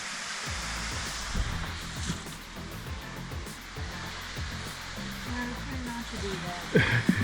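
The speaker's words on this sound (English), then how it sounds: "Guessing that's the waterfall." Steady broadband rushing water from Linville Falls in Linville Gorge, at moderate distance, runs throughout beneath intermittent talking and some low thumps.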